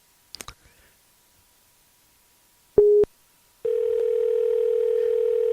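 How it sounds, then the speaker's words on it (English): A Skype phone call starts with a few clicks, then a short tone burst, then a steady, loud dial tone that holds without a break. "let's try and give her a call again"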